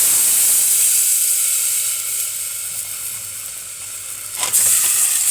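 Squeezed tomato juice poured into a vinegar mixture in a hot pan sizzles with a loud, steady hiss that eases slightly midway, then flares briefly near the end.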